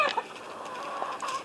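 Backyard chicken hens of breeds including Americana and Somali cluck in a series of soft, close, irregular clucks and short calls, with no talk.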